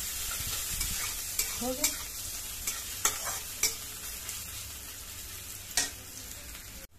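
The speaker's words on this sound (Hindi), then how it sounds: "प्याज लाल मिर्च और जीरा भून गए।" Onion, red chili and cumin frying and being stirred in a pan, with a steady sizzle and a few sharp scraping clinks, heard close up without talk.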